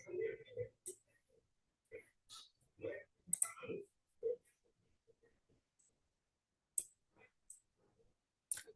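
Sharp computer mouse clicks ring out as the show plan button is pressed on an insurance plan page, a few isolated taps scattered across quiet stretches with brief soft speech near the start.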